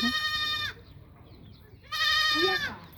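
Goat kids bleat twice, each a loud, close, wavering cry about two-thirds of a second long, with a quiet pause between them, at a farm where young goats and lambs are being dosed with tonic medicine.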